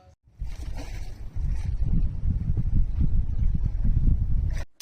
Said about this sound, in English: I'm going to run the engine in reverse against the wind.